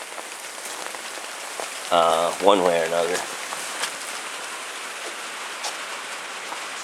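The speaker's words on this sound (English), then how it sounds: "I'm very grateful that we're finally getting some more rain." Rain falling outdoors on a garden with cucumbers, a steady even hiss on surfaces that runs throughout, while someone speaks briefly in the middle.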